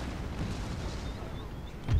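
Artillery battery fire in the Napoleon: Total War video game, a dense continuous rumble of distant cannon shots and bursts, fairly loud and steady, swelling into a heavier boom at the very end, with no talk.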